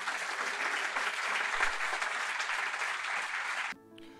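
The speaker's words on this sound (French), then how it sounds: "Est-ce qu'on peut acclamer Jésus, frère et sœur?" A church congregation applauds Jesus, a dense, steady crowd of clapping hands that carries on evenly for several seconds, then cuts off abruptly into quiet.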